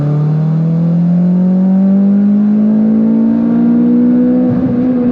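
A Mitsubishi Evo X running an E85 flex-fuel tune accelerates hard through a steady pull, its engine note climbing continuously in pitch for about five seconds, loud and close throughout with no talking.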